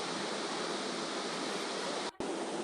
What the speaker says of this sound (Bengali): টুকরো টুকরো করে আমি জল দিয়ে ধুয়ে নিচ্ছি যাতে আঠাটা চলে যায়